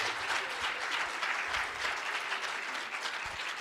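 An audience at a tech-themed conference applauds, sustained dense clapping from many hands at moderate level with no voices heard.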